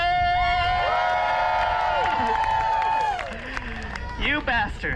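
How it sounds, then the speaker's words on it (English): A festival audience at a Renaissance fair performance cheers, whoops and claps loudly together, a dense sustained burst of voices that tapers slightly toward the end. "who amongst you by round of applause and general noise making would like to see me possibly kill myself?"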